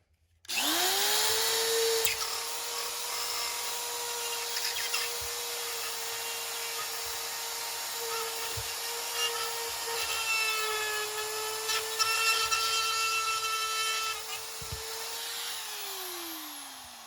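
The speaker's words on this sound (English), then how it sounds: "I'm just going to plunge cut this and go about a 1/2 inch past this drywall" A power saw whines steadily as it plunge cuts through drywall around an electrical box, a continuous close, loud drone holding for about fifteen seconds before winding down.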